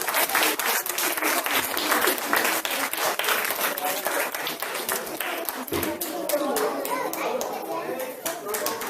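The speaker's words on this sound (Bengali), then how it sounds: "তাদের জন্য একটা হাততালি" Audience applause at a stage play by a youth association's drama troupe, dense continuous clapping for children after a performance, loud and sustained, with voices and children's chatter mixed in.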